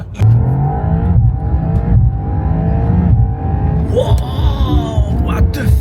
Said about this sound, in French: il y a une espèce de bruit, là, artificiel. Tu sais, on dirait un turbo.